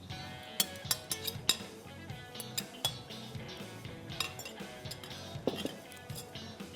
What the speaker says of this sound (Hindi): अच्छा अब अंडा मैं इसी में डाल दूंगा